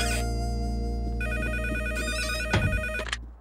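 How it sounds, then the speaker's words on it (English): An electronic telephone ringtone sounds loud and close, a sustained synthetic melody that cuts off near the end with a brief clatter as the call is picked up. "Let's try calling Daddy and Tracy at the hotel and see how they're doing"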